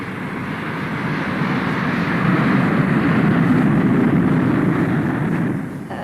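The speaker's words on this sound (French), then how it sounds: "nous sommes parés pour le décollage" A jet aircraft taking off, a steady heavy engine roar that swells and holds loud for several seconds before easing slightly at the end, with no voices over it.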